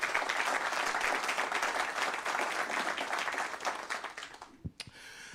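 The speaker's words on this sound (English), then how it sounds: "Let's welcome them with a round of applause." A banking forum audience gives a round of applause, a full, steady wash of many hands clapping that thins out and stops, leaving a few scattered claps and a thud in a quiet room.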